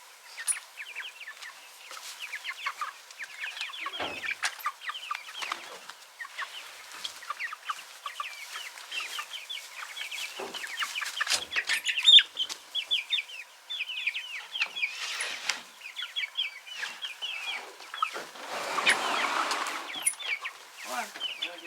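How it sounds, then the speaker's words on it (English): Chickens clucking outdoors, a steady stream of soft clucks and chatter from a flock, fairly close, with occasional louder calls and some brief rustling bursts. "See, now they're happy chickens."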